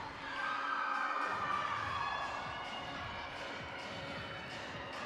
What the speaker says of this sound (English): See some young fans behind Leah cheering her on into her second pass.